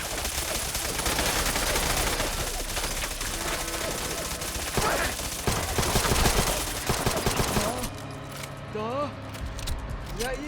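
Gang warfare gunfire in Fallout London sounds as dense, rapid bursts of shots that fill the first eight seconds, with shouted voices and speech over the shooting and quieter talk once it stops.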